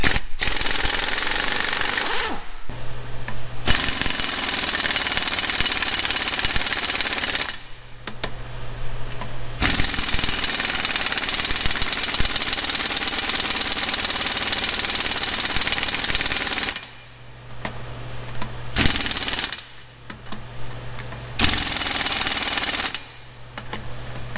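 A Snap-on 3/4 inch air impact gun hammers loudly in long rattling bursts, stopping and restarting several times with brief pauses in between, close up and alone.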